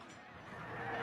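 A horse neighs in an illustrated story about an army riding to attack a tribe, a single whinny that builds in loudness over about a second with no talk over it.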